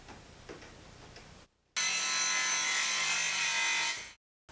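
Circular saw in a miter jig cutting through a pallet wood board, one steady loud cut of about two seconds that stops abruptly, preceded by quieter handling.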